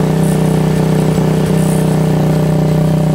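A YCF 125 Start pit bike idles after its exhaust repair, a loud, close, steady single-cylinder putter with rapid even firing pulses and no break in the sound.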